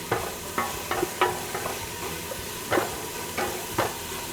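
Onions and vegetables sizzle softly in a pot for tomato soup, with a low steady hiss and a few sharp clicks of stirring scattered throughout, no talking.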